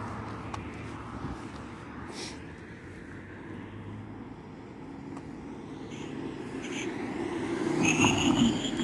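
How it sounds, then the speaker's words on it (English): Steady traffic noise from cars passing on a city street at night, a continuous broad rumble that swells louder toward the end as a vehicle draws near. "there's a lot of goddamn cars right now"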